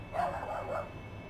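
A dog barks off to one side, giving two or three short, faint woofs over a low background hum.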